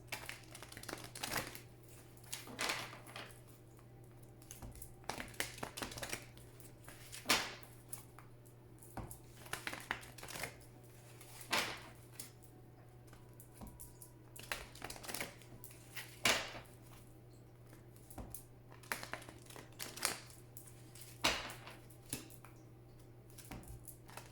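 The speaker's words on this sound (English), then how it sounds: "Please think of your question as I shuffle the cards" Cards are shuffled and handled, with soft, irregular snaps and taps repeating over a steady low hum.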